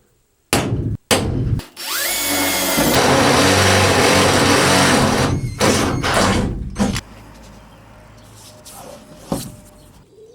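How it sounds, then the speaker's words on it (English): A loud power drill runs steadily for several seconds, whining and grinding through a transit van's metal roof while drilling a pilot hole, with sharp clunks before and after. "then we're going to drill pilot hole."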